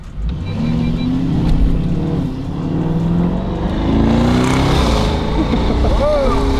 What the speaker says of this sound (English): Start it up, I want to hear it.